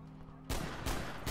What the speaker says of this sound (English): I'm going to shoot everything with a Magnum.